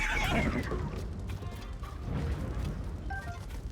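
Horse whinny in the video game Zelda: Tears of the Kingdom, a loud neigh early on within dense game combat noise, crashes and thuds, no voices.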